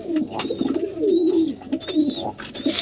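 Several pigeons coo close by in loud, throaty, repeating rolls that overlap one another, with brief rustling between calls.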